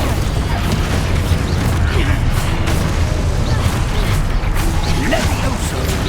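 Descendo spell cast in Hogwarts Legacy, a loud, dense magical blast of booming crashes and rumbling impacts with scattered sharp cracks throughout, and voices faintly mixed in.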